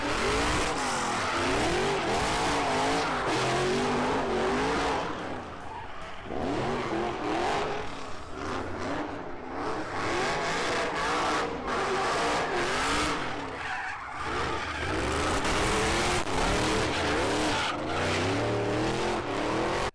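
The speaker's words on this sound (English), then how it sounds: "just take a listen to these FactoryFive Mustangs. Cobra." Factory Five Mustang Cobra cars drift at the SEMA Show, their engines roaring continuously while tires squeal in long, wavering screeches, loud and sustained throughout.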